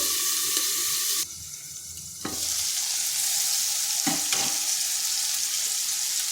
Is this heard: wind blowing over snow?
no